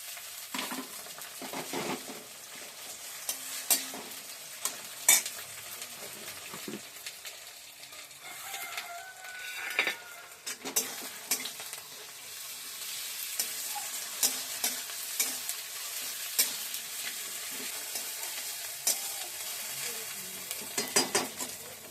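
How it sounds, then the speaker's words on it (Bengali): Ginger and garlic paste frying in a pan for chicken curry, a soft continuous sizzle with repeated scraping and clinks of a spoon stirring, close and quiet, with no talk. "এবার এর মধ্যে আদা আর রসুনের পেস্ট দিয়ে দেবো"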